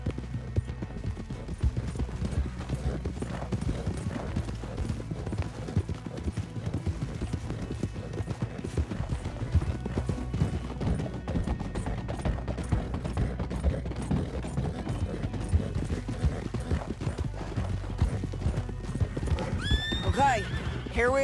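Horses gallop and neigh in Red Dead Redemption 2, with rapid, continuous hoofbeats and occasional whinnies running throughout, under character voices.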